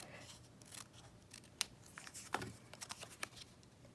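Scissors snip a paper craft piece for a pumpkin patch easel card, a few quiet, crisp cuts with soft paper rustling between them, close and alone.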